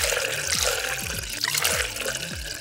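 Water is poured into a cup for a sound-of-water experiment, making a close, steady trickling stream with a series of rising, gurgling pitch sweeps as the vessel fills, with no voices over it.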